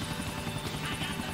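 Helicopter in GTA 4, a close, loud, continuous rapid rotor chop with a buzzing whir, steady throughout a brief moment, with no voices.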